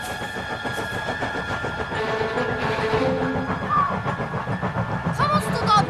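A passenger train runs along the rails out in open country, with a steady rumble and rhythmic clatter of wheels over track joints and a brief squeal near the end, while people talk over it.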